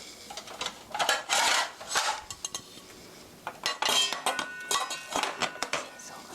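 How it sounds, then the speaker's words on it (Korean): A kitchen knife slices onion and other vegetables on a cutting board for a hamburger rice bowl, a string of close, crisp chopping strokes in uneven bursts with short pauses between them. "채소 썰어 보겠습니다"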